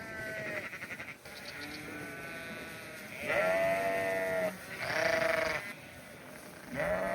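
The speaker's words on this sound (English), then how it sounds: "I was just in the process of moving some sheep into another paddock" Sheep bleat loudly and repeatedly as they are moved from one paddock into another on a farm, with several long calls in close succession against a steady outdoor background.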